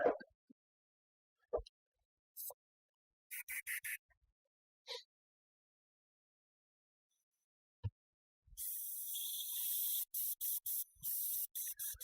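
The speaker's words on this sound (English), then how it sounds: "I've got my other airbrush out. Let's see how it's spraying." An airbrush sprays in short bursts, first a few brief hisses, then longer repeated blasts of fine airy spray close by, separated by silence and small clicks.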